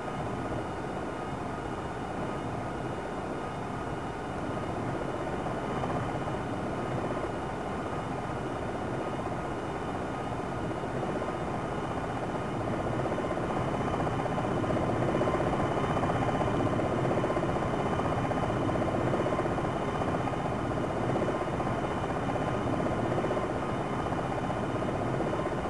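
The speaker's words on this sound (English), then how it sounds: "this variant of the Blackhawk is used primarily as a utility helicopter" Black Hawk utility helicopter hovering in the flight simulator game Jane's Longbow 2: a continuous, steady rotor and turbine drone that holds loud and even for the whole stretch, growing slightly louder midway, with no talk over it.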